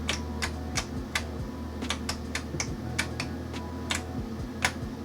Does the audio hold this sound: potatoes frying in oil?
no